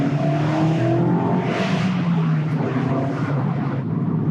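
A 2022 Mazda MX-5 GT Sport Tech engine drones steadily and loudly, its pitch rising and falling slightly as it revs, with no voices.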